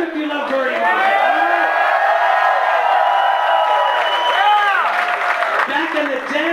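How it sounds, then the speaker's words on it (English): A live audience at a drag comedy show cheers loudly and continuously, with whoops and shouting voices layered over a wash of applause. "Clap if you love Birdie Mart."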